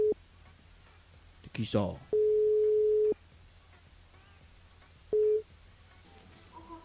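Telephone line tones on a radio call-in switchboard: a short tone, a long steady tone of about a second, then another short tone, with a brief rustle and a voice speaking between them.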